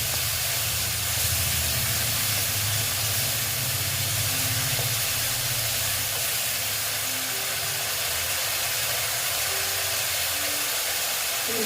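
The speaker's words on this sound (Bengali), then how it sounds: "টমেটো দিয়েও আবার ভেজে নিচ্ছি" Tomatoes fry with spices in a pan for a pumpkin dish, a continuous dense hiss of cooking that holds steady and fairly loud throughout.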